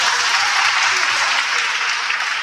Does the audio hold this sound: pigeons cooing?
no